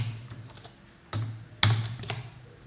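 C++ code is being typed on a computer keyboard, with a few sharp, isolated keystrokes spaced about half a second apart over a quiet background hum.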